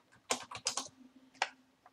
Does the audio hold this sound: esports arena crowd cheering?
no